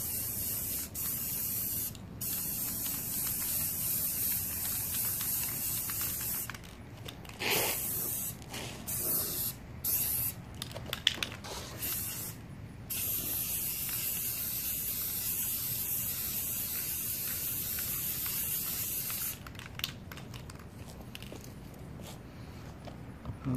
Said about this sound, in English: let's go ahead now and take a look and see about putting that second coat of paint on it.